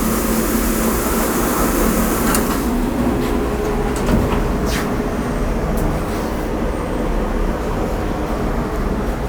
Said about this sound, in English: let's throw this in the blaster and show you guys what the end result is after it's being blasted